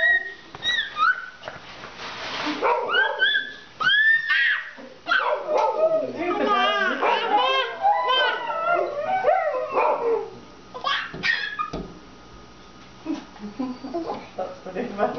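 Puppies yip, bark and let out little howls in a busy jumble, with people talking over them close by.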